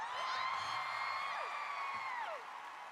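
A studio audience at a televised talent show cheers, whoops and applauds, a dense crowd roar with shouted voices gliding up and down throughout.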